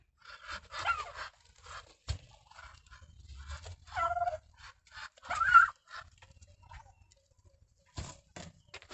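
Several nasal, sputtering duck calls sound in short bursts at close range on a turkey and duck farm, separated by quiet pauses and soft shuffling.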